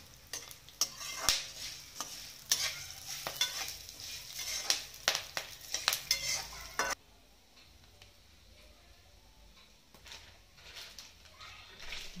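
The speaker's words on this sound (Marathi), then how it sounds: "बारीक बारीक वस्तू मी इकडे गॅसवर तळून घेते छोट्या कढईत" Small spice pieces frying in a little kadhai on a gas stove: soft crackling sizzle with frequent sharp scraping stirs and clicks, fairly quiet, fading to a low hiss after a few seconds.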